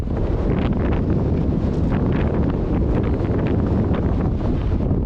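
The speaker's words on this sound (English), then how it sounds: "it is extremely windy here, so I'll put the camera out in the wind so you can hear it" Strong wind on a Scottish mountain ridge buffets the microphone in a constant loud roar with gusty rumbling, no voices, steady throughout.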